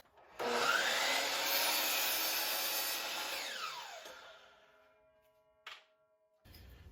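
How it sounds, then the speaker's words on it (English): Wooden dowels are cut to length on a saw against a stop block: a loud saw whine runs for several seconds and winds down, followed by a short knock and a brief burst of noise, with no one talking. "I need 16 dowels at 4 inches long. So I set up a block and I just got to run them through."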